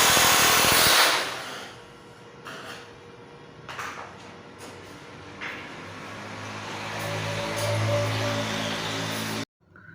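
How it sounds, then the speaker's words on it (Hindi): A power drill bores holes through a fiber sheet laid on a large iron frame, a loud whirring burst at the start followed by quieter tool knocks and a later rising whine, close by. "ड्रिल से उस पर सुराख किया"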